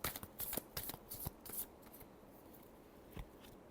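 Tarot cards being shuffled in a quick run of crisp riffling bursts, strongest early on, then a quieter pause and one last brief riffle near the end.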